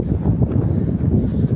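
Strong wind on Mt. Ulap buffets the microphone in low, rumbling gusts, loud and constant throughout.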